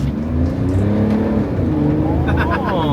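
BMW X5 engine accelerating off-road at partial throttle, a steady, loud, close engine drone with rising pitch toward the end, with people talking over it.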